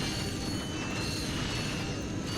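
The Pyrocitor flamethrower in Ratchet & Clank, used to burn enemies, gives a continuous dense roaring hiss with mechanical clatter, steady and loud for a couple of seconds.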